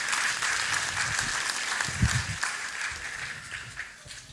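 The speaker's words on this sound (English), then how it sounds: "Round of applause." A hall audience at a Gita Jayanti gathering breaks into sustained applause, dense and fairly loud throughout, fading slightly toward the end.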